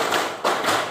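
Three quick, sharp claps in a row from students doing a rhythmic clapping game in a classroom lesson, close and evenly spaced, with no talk.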